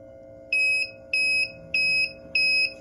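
An electronic tank-empty alarm from a vessel in a manufacturing plant gives four evenly spaced shrill beeps over a steady low hum of machinery.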